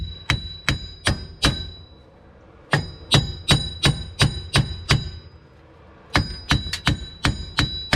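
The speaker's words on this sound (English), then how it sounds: "We're going to hammer on both sides" Repeated hammer blows on a rear wheel hub bearing of a 2006–2010 Infiniti M45 (RWD), struck in quick bursts of four and then about six metallic, ringing hits, separated by short pauses, close and loud with no talk.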